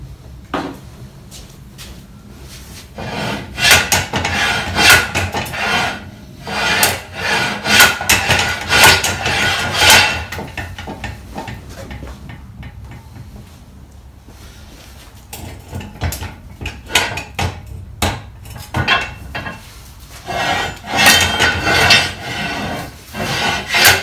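A bearing is pried and hammered off with a crowbar: a sequence of sharp metallic knocks and scraping, grinding rasps in irregular bursts, moderately close, with no talk.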